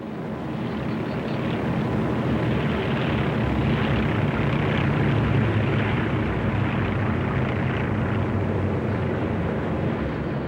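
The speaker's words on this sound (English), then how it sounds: "The flyover of several hundred American warplanes had been intended to close the ceremony." Several hundred American warplanes fly over in a massed formation at the 1945 Japanese surrender ceremony, a loud, steady roar of propeller aircraft engines that swells slightly midway and fills the whole stretch without a break.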